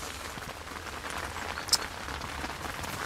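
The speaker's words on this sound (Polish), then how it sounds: "Pomału wygląda, jakby przestawało padać." Steady autumn rain falls on a lakeside carp-fishing spot, a close, even hiss of drops with one brief sharper patter and no voices.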